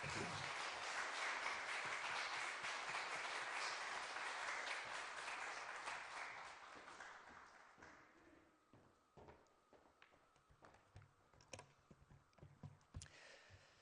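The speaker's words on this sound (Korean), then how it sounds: "우리 박수로 앞으로 모시겠습니다" A church congregation at a New Year revival meeting claps steadily for several seconds to welcome a pastor, then the applause thins out into scattered claps and faint bumps.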